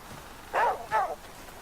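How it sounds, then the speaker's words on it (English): Dog in the video game The Flame in the Flood giving two quick barks in succession, moderately close over a low background hum. "bark at him, Aesop."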